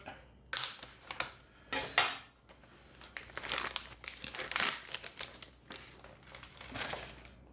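Plastic packaging around Aldi fishcake burgers is cut open and handled, giving close, bursty crinkling and crackling with short pauses between handfuls.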